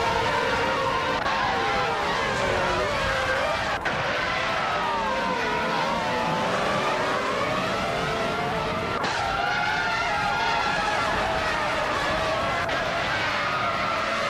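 Race cars speed around a track together, their engines whining continuously as the pitch rises and falls through gear changes and passes, with tire skids mixed in. The sound is loud and unbroken throughout.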